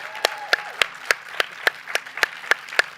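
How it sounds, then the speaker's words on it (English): A small audience gives a round of applause for a guest at a COP28 hangout event, sounding as a sparse run of about ten distinct, evenly spaced claps from a few people, close and moderately loud. "if we could all just give him a massive round of applause"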